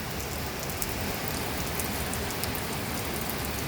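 Heavy rain falling on a roof, a dense, loud, unbroken roar of drops hammering steadily throughout, close and enveloping with no voices.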